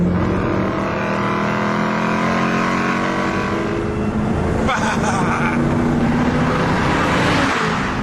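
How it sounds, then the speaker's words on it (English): A supercharged Vauxhall Monaro VXR 500 with an LS2 engine roars loudly and continuously at close range, its exhaust revving with a shifting pitch and a brief crackle midway. "there's an exhaust that sounds like someone torturing a lion through stadium speakers"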